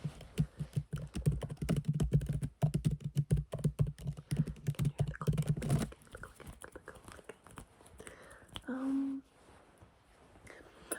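Rapid, close keyboard typing with crisp clicking keystrokes for several seconds, then it stops and soft whispery noises and a brief voice follow.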